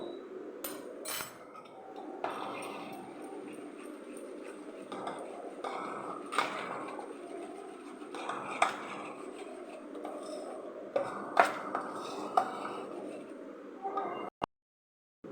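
Semolina dhokla batter, with salt, soda and oil and a splash of hot water, is stirred in a bowl, giving faint repeated clinks and scrapes of a spoon against the bowl over about fifteen seconds, with quiet speech underneath.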